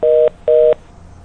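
Two loud, even telephone keypad tones of about a quarter second each, separated by a short gap, as a call is dialed during a Korean stock market broadcast; faint low hum follows.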